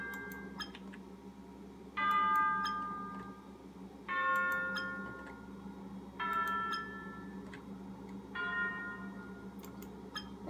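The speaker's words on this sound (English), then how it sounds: "There's bells, which make different noises if you drop them." Bells dropped in the People Playground video game, ringing out as four separate clear chimes about two seconds apart, each with a bright tone that decays over a steady low background hum.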